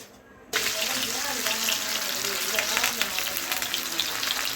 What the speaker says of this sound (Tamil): ரைஸ் கடாயில் எண்ணெய் ஊற்றிக்கிட்டு நல்லா கொஞ்சம் சூடான பிறகு நம்ம அப்படியே பொரிச்சு தான் எடுக்கிறோம்